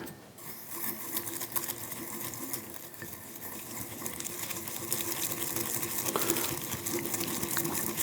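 A bamboo whisk works matcha powder and a little water into a paste, making a faint, rapid, continuous scratchy whirring heard alone at close range.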